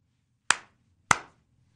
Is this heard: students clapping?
yes